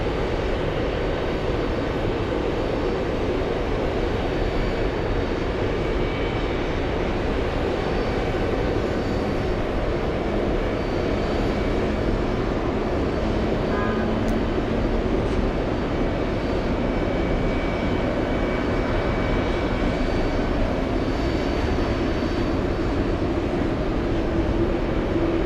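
A Boeing 747 at JFK airport, a continuous heavy engine rumble and roar that stays loud and even throughout, without talk.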